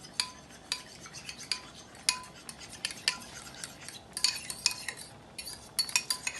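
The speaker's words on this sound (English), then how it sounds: "I have 2 eggs again in here, and I'm just gonna whisk these so they can break, so it doesn't clump up" Two eggs being whisked in a bowl, a fork or whisk clicking against the sides in quick, irregular taps, fairly faint and close, with no talking.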